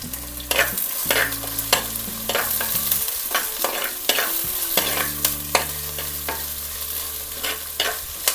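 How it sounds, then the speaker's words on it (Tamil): Curry leaves frying in oil for a chapati gravy, a constant close sizzle broken by repeated sharp scrapes of stirring, with a low tonal hum in the background. "ஃப்ரை பண்ணி நல்லா ஸ்டேர் பண்ணணும்."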